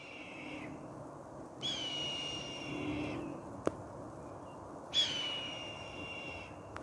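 Two sharp, high descending screeches ring out a few seconds apart over a low outdoor hum, a hawk or falcon calling from some distance.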